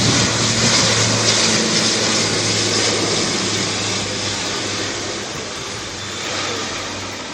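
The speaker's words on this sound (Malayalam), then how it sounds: "സാങ്കേതിക വിദഗ്ധരെ കൊണ്ടുവന്ന എയർബസ് 400 വൈകുന്നേരത്തോടെ മടങ്ങി" An Airbus A400 military transport aircraft gives off a loud, steady droning roar that holds for several seconds, easing slightly toward the end.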